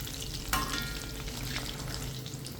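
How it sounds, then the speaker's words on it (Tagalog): Chicken pieces frying in hot oil in a pan, a continuous dense sizzle with a brief spitting crackle near the start, close and steady throughout. "Saka natin piprituhin yung chicken hanggang sa maging crispy."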